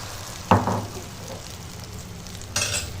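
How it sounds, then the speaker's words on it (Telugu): Beaten egg omelette batter poured into an oiled pan hits with a sudden loud sizzle, fades to a steady frying hiss, then flares again briefly near the end; no voices. "బీట్ చేసి పెట్టుకున్న పక్కకి ఉన్న ఆమ్లెట్ దీంట్లో ఒక గరిట వేసేసుకుంటున్నాను."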